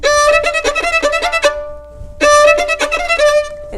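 A violin plays a rapid passage of short, off-the-string bow strokes, beginning with a lurching first note, a burst of quick notes, a brief pause, then another fast run, played close and fairly loud.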